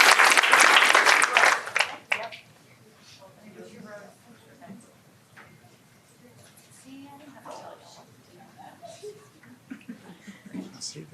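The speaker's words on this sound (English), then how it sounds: "Again, a round of applause to the Redwood softball team" Loud applause at a school board of education meeting honoring the Redwood softball team cuts off after about two seconds, followed by quiet scattered talk, a chuckle and room murmur.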